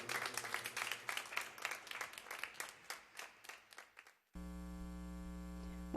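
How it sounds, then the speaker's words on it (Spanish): Applause for Samuelito fills the first four seconds, dense clapping from a crowd that gradually thins out, then stops abruptly and gives way to a steady electrical hum. "Fuerte el aplauso para Samuelito."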